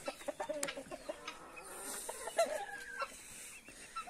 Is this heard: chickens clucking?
yes